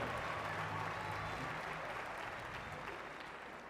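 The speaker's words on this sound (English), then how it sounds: "Ladies and gentlemen, another big round of applause for Songe Daweti." Audience applause at a navy gala concert, a broad steady wash of clapping from a large crowd, moderately distant and fading slightly toward the end.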